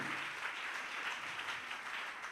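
Applause from a church congregation during a French-language sermon, a steady, fairly distant patter of clapping lasting a couple of seconds with no talk over it.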